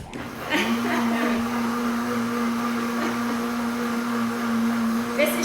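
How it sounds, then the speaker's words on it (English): A kitchen blender runs steadily, blending a blueberry vanilla quinoa bowl, its motor holding a loud, even whine from start to finish after a brief lead-in, with faint voices underneath. "here we go with the blending"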